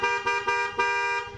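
A Denso horn fitted to a Yamaha X-Max scooter sounds in four loud, steady honks with short gaps between them, close to the listener and with no talking over it.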